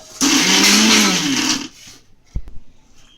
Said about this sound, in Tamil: இப்போ மீல் மேக்கரை நீங்கள் மிக்சியில் கிரைண்ட் பண்ணிடுங்க